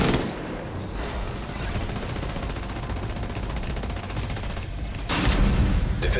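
The Division 2 raid gunfire, a continuous rapid automatic rattle of weapons for several seconds, then a heavier, louder burst of shots at the end, no talking.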